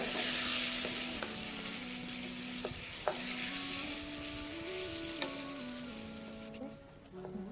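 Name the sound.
freshly blended tomatoes added to pan, sizzling and stirred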